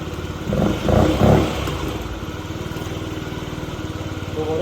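A Yamaha Vino scooter engine revs up in a few quick bursts, then settles into a steady, rattling idle, heard up close.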